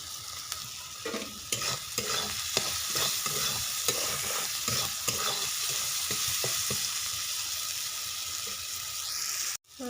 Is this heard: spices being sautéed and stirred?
yes